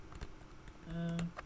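Computer keyboard typing during HTML coding, a short burst of quick keystrokes close up, with a steady tonal hum rising briefly midway.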